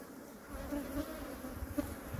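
A close, steady buzzing of many honey bees during a hive inspection with smoke, a continuous droning hum with slight rises and falls.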